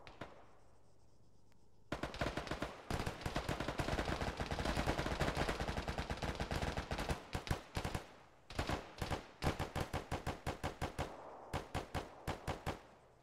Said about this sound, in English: Is anyone able to get a mark on this heavy machine gun?